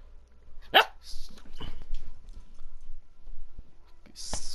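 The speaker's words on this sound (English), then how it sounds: "Dog, stop, please." A dog barking in the Minecraft video game, a few sharp, separate barks close up with quiet gaps between them, plus a bright burst at the end and no talk.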